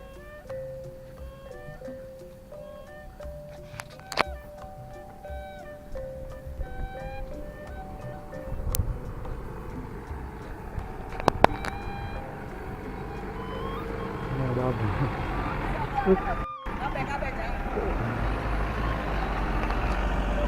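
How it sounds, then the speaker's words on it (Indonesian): A white bridal car pulls up at a rural Sundanese wedding in a Banten village, its engine rumbling in closer amid steady outdoor crowd noise, with beeps and brief clatter along the way. "mobil pengantinnya udah datang, mungkin yang mobil putih itu ya teman-teman"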